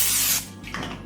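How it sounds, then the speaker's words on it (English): Cooking spray hisses from a can into a 9x9 casserole dish in a single close, loud burst, followed by a quieter, shorter spritz. "I'm going to spray it with my cooking spray."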